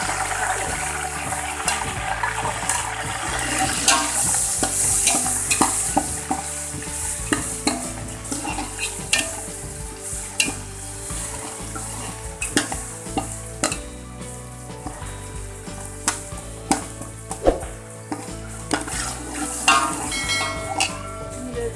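Garlic and ginger paste fries with light-brown onions for matar murgh biryani, giving a steady, close sizzle with frequent stirring scrapes and clatter of a pot, ongoing for about twenty seconds without speech.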